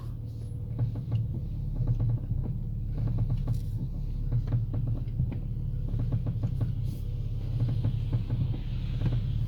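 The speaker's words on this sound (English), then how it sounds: "so you can see the noises that car is making while driving in the car" A BMW fitted with faulty aftermarket springs knocks and clunks from its suspension while driving, irregular thuds and rattles heard from inside the cabin over a steady low road and engine rumble.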